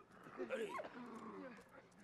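A dog in the World War I video game Valiant Hearts gives a few short, faint yips and whimpering barks over game music, with a brief voice nearby.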